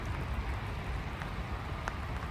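Steady rain falls outdoors beside a river during a fishing trip, a dense, even patter with a few sharper drops standing out, continuous and fairly soft throughout, with no talking.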